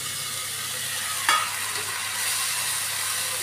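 A spice paste hits a hot frying pan with black cumin while cooking pabda fish, giving a brief splash and then a steady, close sizzle with no talking.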